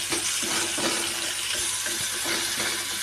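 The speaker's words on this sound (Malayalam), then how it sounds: "ഇതൊന്ന് ഇളക്കിയതിൻ്റെ ശേഷം ഇച്ചിരി വെള്ളം ഒഴിക്കണം." Water pours into a cooking pan while making raw mango pachadi, a steady, close splashing trickle that runs unbroken for about three seconds with no talk over it.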